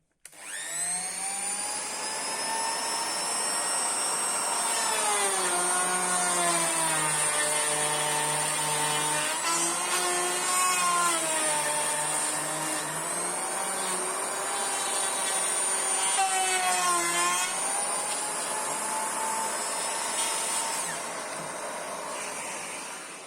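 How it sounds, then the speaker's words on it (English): A hand router fitted with a guide bush and a 1/2 inch cutter whines loudly and continuously as it routs wood back and forth on a knock-down cutting table, its pitch dipping and rising under load, with no talking. "the router itself has got the guide bush in and a 1/2 inch cutter, and that will just go backwards and forwards like that"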